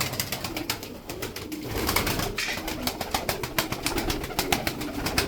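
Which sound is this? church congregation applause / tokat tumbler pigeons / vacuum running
tokat tumbler pigeons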